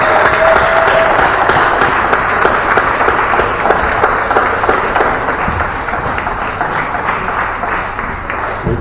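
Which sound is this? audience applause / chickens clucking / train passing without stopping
audience applause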